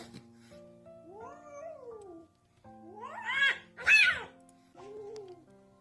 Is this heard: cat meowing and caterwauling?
yes